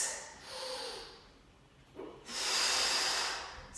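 Heavy breathing during a bodyweight workout hip-lift exercise: a strong inhale, a short pause, then a long forceful hissing exhale, close to the microphone with no talking.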